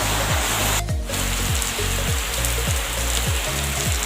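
Evening rain falls steadily, heard from a balcony, a constant broad wash of patter with a repeating low mechanical thump beneath it and no voices.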